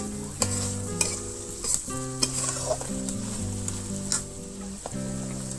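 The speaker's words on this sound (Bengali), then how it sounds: "কষানো মশলার মধ্যে গোস্তগুলো দিয়ে ভালো করে ভেজে দিতে হবে।" Meat is fried in a cooked spice paste and stirred. A loud, continuous sizzle fills the clip, broken by repeated scrapes and clinks of a utensil against the pan.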